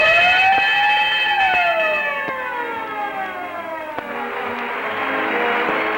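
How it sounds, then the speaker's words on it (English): A siren sound effect from an old-time radio broadcast wails with rising and falling tones, sharp bell-like strikes punctuating it, loud and alone with no talk. "whenever you hear the siren and bell"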